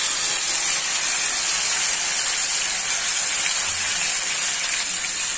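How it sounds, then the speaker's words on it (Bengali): Marinated chicken dropped into hot oil in a pan over a stove, giving a steady, loud, even sizzle with constant hiss and no pauses. "তেলের মধ্যে ছেড়ে দিচ্ছি।"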